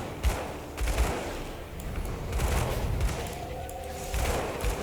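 Rapid gunfire bursts and booming impacts from combat in the action role-playing game Grim Dawn, with an Inquisitor character battling mages, played in a steady stream under busy game effects.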